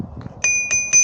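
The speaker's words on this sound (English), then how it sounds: "Little bell." A small bicycle bell on a Jetson Atlas folding fat-tire electric bike rings three times in quick succession, bright and close, over a faint low background.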